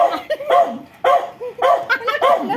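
A dog barks angrily at close range, giving several loud, sharp barks and yips in uneven bursts with whimpering sounds between them.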